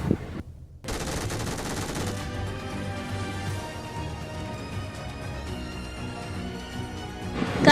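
Sustained automatic gunfire in the video game PUBG Mobile rattles in rapid bursts, loud and dense, with a short silent gap near the start and a final shot at the end.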